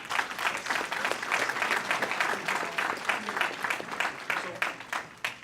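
Graduation audience applause in a crowd, a dense, sustained wash of many hands clapping at moderate distance, with steady rhythmic peaks that fade slightly toward the end.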